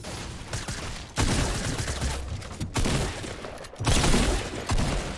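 Shotgun blasts in Fortnite, three or four heavy booming shots at irregular intervals, each with a broad rumbling tail, loud and close with no talking.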